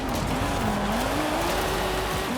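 Audi S1 Quattro with a 2.0-litre engine in a racing video game, a loud, sustained engine drone whose pitch rises and falls slightly, continuous and close.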